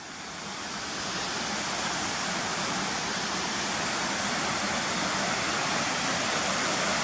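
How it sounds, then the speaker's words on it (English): A stream rushes down to meet a river in the countryside, a dense steady broadband roar of flowing water that swells in the first second and then holds constant and close, with no voices. "take a picture of that stream coming down to meet the river"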